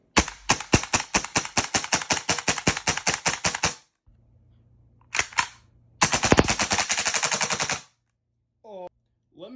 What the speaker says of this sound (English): It is a gas blowback pistol-style AR with a humongous bolt that gives you quite a bit of recoil for an airsoft gun.